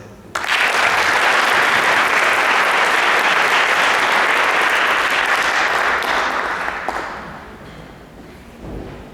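A concert hall audience bursting into loud, dense applause that holds steady for several seconds, then fades away as the clapping thins out to a few scattered claps.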